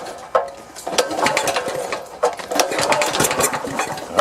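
A Honda GX390 engine fitted with a Hipa dual-fuel carburetor is cranked with the choke on, giving a few uneven, rattling mechanical bursts close up that never settle into a steady run.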